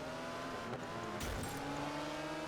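In Project Gotham Racing 4, a car engine drones steadily while a brief burst of braking noise and tyre scrub cuts in midway, then the engine note carries on, no voices.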